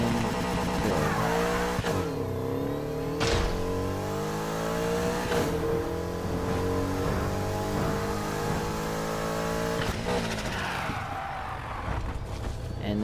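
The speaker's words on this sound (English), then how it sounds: "You hold, you rev your engine to max" A car at a drag strip launch revs its engine hard and accelerates through the gears, loud and close, with rising engine pitch and several shift drops over about thirteen seconds.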